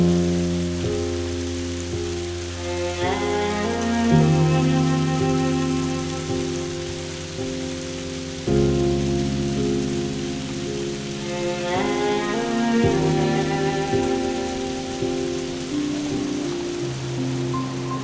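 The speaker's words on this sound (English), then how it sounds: "Owen's hunt ends with deer in the field in a rain-sleet mix that slugs its way across Iowa." A rain and sleet mix falls across an Iowa field, a steady dense patter running unbroken under sustained musical tones that swell and fade, with no voices.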